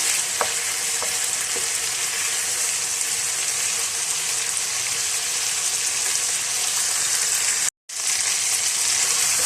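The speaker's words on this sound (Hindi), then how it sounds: "3 से 4 मिनट इनको भूनेंगे ताकि अच्छा सा मज़ीद कलर आ जाए।" Chicken leg pieces for a lemon chicken roast fry on full flame with a loud, dense, continuous sizzle close up, broken only by a brief silent gap near the end.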